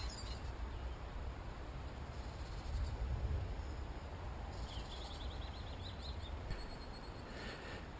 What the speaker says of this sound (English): I'll sit here for a little bit and listen to the birds sing.